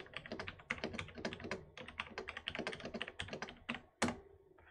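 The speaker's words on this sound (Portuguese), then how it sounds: "então vou digitar aqui." Keys on a computer keyboard clatter in a quick, uneven run of soft, close taps during a programming exercise, with a louder thunk near the end and no talking.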